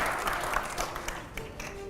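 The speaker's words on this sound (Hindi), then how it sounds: "अगले सवाल के लिए जोरदार तालियां हो" Audience at a Hindi political debate event applauding, a somewhat faint, uneven patter of clapping with scattered sharper claps rising and falling.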